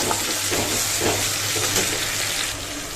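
Ginger garlic paste sizzles and fries steadily in a pan, a continuous close hiss with light stirring scrapes throughout and no talking.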